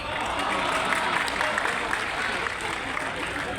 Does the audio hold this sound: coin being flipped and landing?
no